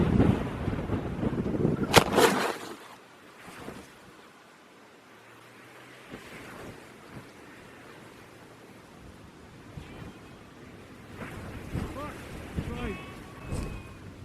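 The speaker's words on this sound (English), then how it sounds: "Bloody stupid wind." Wind gusting at a riverside tent campsite on a hiking trail, buffeting the microphone in rough low rumbles that swell and fade, with a few brief knocks and a voice speaking faintly.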